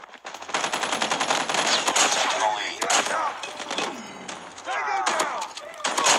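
Rapid shotgun fire in the video game Call of Duty cracks out in a dense, continuous string of loud blasts, with game effects ringing around it and a voice talking through the shooting.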